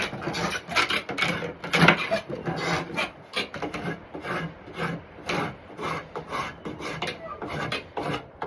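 A spokeshave shaves along a wooden axe handle in close, rhythmic rasping strokes, each pass a short scraping burst repeating steadily with brief pauses between.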